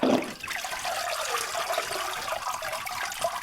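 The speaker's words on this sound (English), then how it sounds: "Let the water drain off." Water drains steadily off freshly formed paper pulp held in a papermaking mould, a continuous close trickling and splashing wash that starts with a brief louder splash and then runs on evenly without talk.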